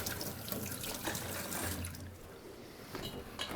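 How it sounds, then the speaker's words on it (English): A tap runs steadily into a sink while hands are washed under the water, a close, soft, continuous splashing hiss with small shifts as the hands move through the stream, no talking. "Wash your hands."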